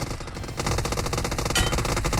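Rapid automatic gunfire in PUBG Mobile, dense and continuous, growing louder after the first half second and rattling on without a break.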